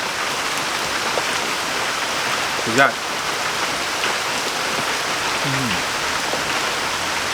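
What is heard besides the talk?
rain falling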